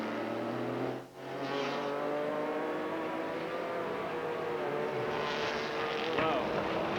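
At a Grand American Rolex Sports Car Series race in Phoenix, a race car's engine drones with rising and falling pitch as it power-slides, the loud tone holding steady with a brief dip early on, while commentators talk over it.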